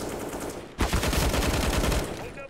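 Rapid gunfire in CS:GO breaking out suddenly after a quieter stretch, loud sustained bursts of close shots continuing for over a second.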